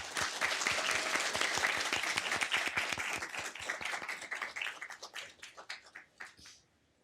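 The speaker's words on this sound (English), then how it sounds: "Let's give another round of applause to our 2 new council members." Audience at a city council meeting in Downey applauds for two new council members, a dense burst of many hands clapping that stays steady for several seconds and then thins into scattered claps before fading out.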